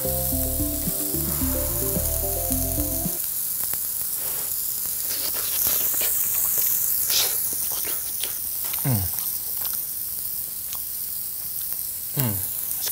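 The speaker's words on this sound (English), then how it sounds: "Might as well just fry the other side of the banana." Banana and eggs frying on a griddle, a steady close sizzle running throughout with small pops and clicks, opening briefly under music before the frying carries on alone.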